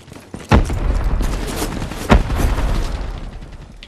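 Gunfire and explosions in the video game Call of Duty: Black Ops III, two heavy booming blasts over a dense rumbling barrage of shots, loud and close.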